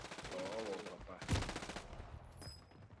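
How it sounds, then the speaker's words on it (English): Bursts of rapid automatic gunfire from a Warzone match, loud and close, with a sharp blast in the middle and further shots trailing off, a player's voice speaking over the action. "There's a whole team above you. I'm shooting at them."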